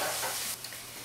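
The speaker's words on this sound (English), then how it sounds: "Then we're going to get a little bit of a toasting on the garlic." Sliced garlic sizzles and toasts in a hot pan, a soft, steady frying hiss that eases off partway through and stays fairly quiet.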